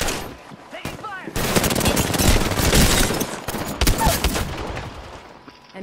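Rapid automatic gunfire rattles loudly in a video game firefight, sustained bursts with short gaps, while a voice briefly calls out over the shooting.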